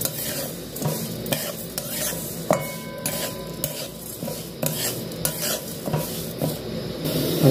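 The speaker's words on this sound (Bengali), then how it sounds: "এর মধ্যে তেল দিয়ে পরিমাণ মতো মুগের ডালটা দিয়ে দেবো, তারপরে নেড়ে করে ভেজে নেব।" Moong dal frying in oil in a hot wok, stirred continuously with a spatula that scrapes and rasps against the metal over a steady sizzle, close and fairly loud with no talking.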